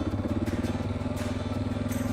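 A Suzuki DR650 motorcycle engine runs steadily nearby, a low thumping single-cylinder rumble with a fast, even pulse and no speech.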